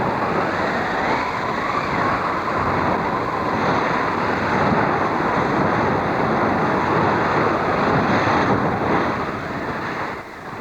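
Storm at sea around a small sailing yacht under a storm jib, with a dense, continuous roar of wind and crashing waves, loud and unbroken throughout.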